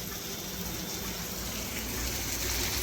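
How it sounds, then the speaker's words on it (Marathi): Water pours steadily into a pan of roasted semolina being cooked for upma with onion, curry leaves and tomato, a continuous soft rushing gush that stays even throughout, close by and with no voices. "आता यात पाणी ओतणार आहे"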